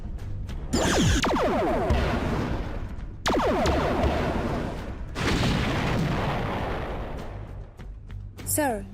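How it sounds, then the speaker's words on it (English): Heavy booming blasts repeat in succession, each bursting loud then rumbling and crackling away, like big explosions with debris. "the explosion destroyed the entire cargo bay and the surrounding area"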